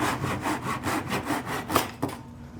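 Hand saw cutting through a piece of scrap wood, steady rhythmic back-and-forth strokes close up that end with a final couple of rasping pulls before falling quiet.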